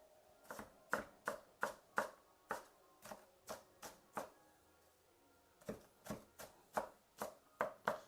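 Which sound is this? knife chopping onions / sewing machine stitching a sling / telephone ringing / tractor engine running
knife chopping onions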